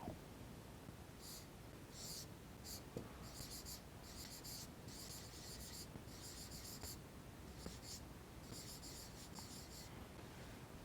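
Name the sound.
writing on paper with a pen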